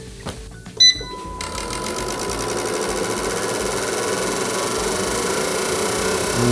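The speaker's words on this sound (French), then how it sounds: "On va faire un test à des régimes variés, et ça simule des phases d'accélération du moteur en fait." Fuel injector test bench cycling through varied engine speeds to simulate acceleration, giving a rapid, loud mechanical ticking and buzzing that runs continuously after a few sharp clicks at the start.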